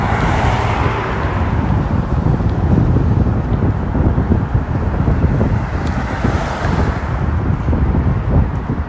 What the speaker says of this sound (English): Here comes the wind again.